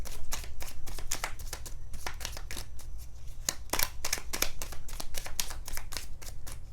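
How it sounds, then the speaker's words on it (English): A deck of tarot cards is shuffled by hand: a rapid series of crisp riffling bursts, repeated rhythmically and heard up close with no talking. "Two more shuffles."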